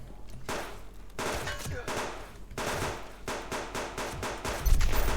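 Machine gun fire from rogue enemies in the survival video game Subsistence, heard as several loud, rapid bursts close by, separated by brief pauses, with a heavier thump near the end.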